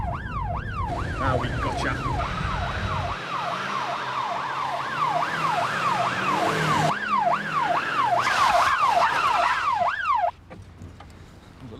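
Police car siren wailing during a chase through a town street, a loud rising-and-falling sweep repeating quickly over engine noise, close and continuous before cutting off abruptly; someone speaks briefly.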